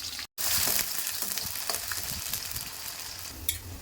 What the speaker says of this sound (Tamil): தேவையான அளவுக்கு எண்ணெய் சேர்த்துக்கிறேன், கடுகு சேர்த்துக்கிறேன், வரமிளகாய், உரிச்ச பூண்டு பொடி சேர்த்துக்கிறேன், இஞ்சி சேர்த்துக்கிறேன்